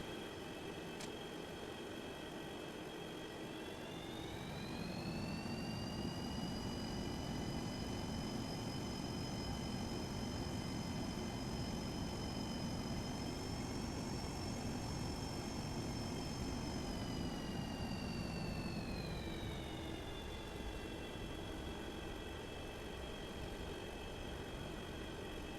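Airplane engine in the X-Plane 11 flight simulator hums steadily while taxiing toward the runway, a continuous whining drone that rises slightly in pitch partway through and then settles, with no talking.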